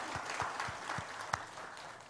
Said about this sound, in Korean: 우리 다시 한번 박수로 하나님께 영광의 박수를 올려드리길 원합니다